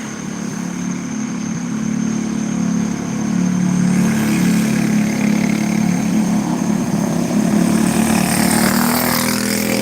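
Go-kart engines run steadily at a short oval track in Hanceville, Alabama, as a qualifying race gets underway: a continuous droning buzz that swells slightly louder midway and holds, with no talk.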